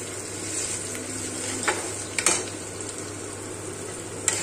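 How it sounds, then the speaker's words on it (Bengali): Vegetables fry in a pan with a continuous close sizzle, broken by a few sharp clinks and scrapes of a utensil stirring against the metal. "সবজি আমার ভাজা হয়ে গেছে,"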